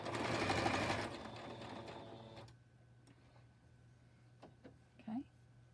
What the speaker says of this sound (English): now I'm going to back stitch over that elastic